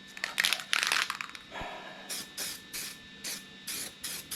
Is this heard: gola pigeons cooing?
no